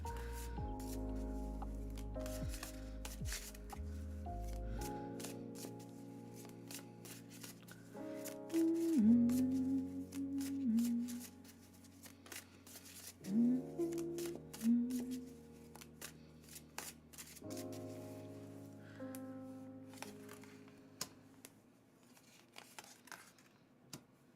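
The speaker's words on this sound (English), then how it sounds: "We can go back to shuffling the cards for you." Tarot cards are shuffled in soft, quick riffling clicks and flutters throughout, faint and close, with soft tonal music playing underneath.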